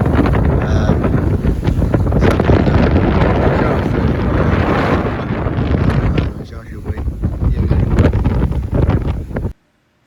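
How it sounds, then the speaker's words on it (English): Strong wind buffeting a sailboat at sea off Greece, a loud continuous roar with rushing water and hull noise throughout, dipping briefly before surging again and cutting off abruptly at the end. "the wind tends to be relatively calm in the morning and increases in the afternoon. And that's exactly what happened"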